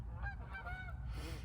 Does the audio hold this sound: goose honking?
yes